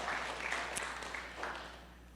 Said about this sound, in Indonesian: Tepuk tangan dong untuk diri kita sendiri.